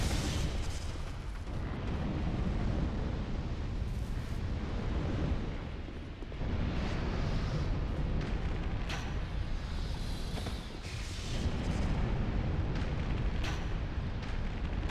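Fire attack in Dark Souls 2 Scholar of the First Sin, a loud continuous roaring blaze with repeated explosive bursts and booms, dense and close with brief dips between waves.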